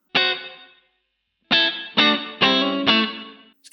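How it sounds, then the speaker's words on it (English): Five distorted electric guitar chords or notes through a Harley Benton DNAfx GiT Pro multi-effects unit with room reverb: one struck alone, a pause, then four in quick succession, each ringing out with a reverberant tail and no talking. "I do like a good room reverb."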